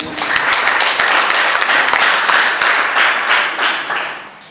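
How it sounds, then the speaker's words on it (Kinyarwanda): Sustained applause from a church congregation during a Friday prayer service, dense steady clapping that fills the space throughout and tapers slightly toward the end. "Reka tumukomere amashyi."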